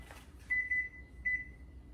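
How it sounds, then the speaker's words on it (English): Kitchen timer beeping during crusty bread baking, a thin high tone sounding in three short pulses, then a pause and one more beep, with a quiet low room hum beneath. "there's our timer"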